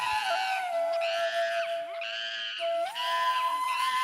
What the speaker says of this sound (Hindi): एक छोटा बंदर पानी के गड्ढे में गिरा हुआ है। वह जोर जोर से चीख रहा था